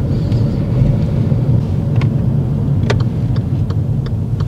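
A car on a first driving lesson, heard from inside, pulls away with a steady low engine drone and shifts into second, accompanied by a few faint clicks and knocks from the cabin.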